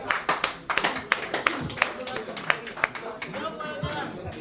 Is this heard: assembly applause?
yes